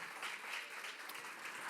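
Church congregation applause at a Portuguese-language sermon, a soft, continuous patter of many hands clapping, faint and somewhat distant throughout the short stretch, with no voices on top.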